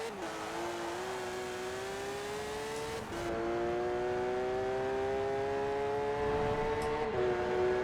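Porsche Macan engine in Forza Horizon 4 revving hard to very high RPM, a loud sustained whine climbing through the gears with two short dips at shifts.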